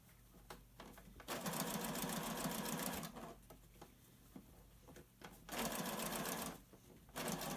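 A sewing machine runs in three bursts, each loud and fast and a few seconds long, with quiet pauses between them. It is stitching a cloth face mask shut. No one speaks.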